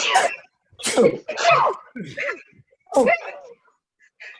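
A voice imitates a dog's sneezes in several short, snorting bursts with brief pauses between them, close and fairly loud.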